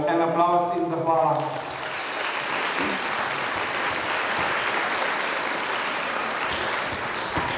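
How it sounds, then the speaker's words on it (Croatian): Sustained audience applause at a children's New Year dance production in Brežice, steady dense clapping that follows a short spoken announcement and continues alone at even loudness. "En aplauz in zahvala."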